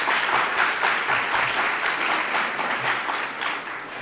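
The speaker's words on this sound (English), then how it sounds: "Can we have another round of applause for the governor?" An audience at a higher education budget announcement gives the governor a round of applause, a dense, even wash of clapping that holds steady and close for several seconds before easing off slightly at the end.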